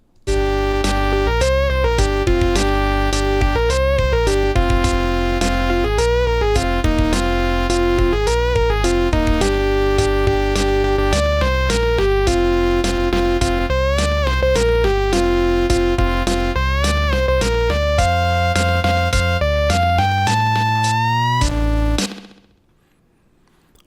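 A Pico-8 chiptune reworked for the game Pico Pals, with bright bleepy melody lines over a thumping bass pulse in shifting meter, loud and continuous before ending in a short fade.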